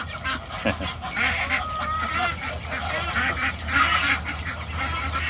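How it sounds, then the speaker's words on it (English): Several geese honk and chatter continuously at close range while playing with toy balls tied on a rope, their calls overlapping over a steady rustling background. "The geese really do play with the balls and the rope and all that stuff."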